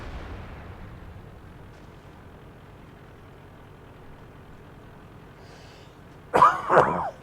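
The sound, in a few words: coughing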